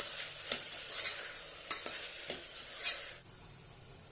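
Curd is sautéed in a hot pan for vegetable pulao. Bright sizzling hiss runs throughout, with scattered clicks and scrapes of a spoon on the pan.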